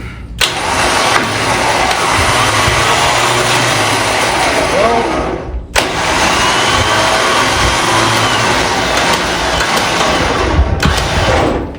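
A Big Tex trailer winch runs steadily under a continuous motor drone, with two brief stops where the sound cuts out before it starts up again, loud and close.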